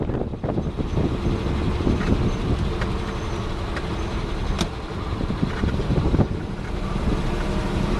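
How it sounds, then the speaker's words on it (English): A 1936 Cord Westchester driving downhill in second gear, a continuous loud rumble of engine and road noise with rattles and knocks, no talk. "We'll keep it in second gear as we go down the hill, then shift into third gear when we get on North Ridge."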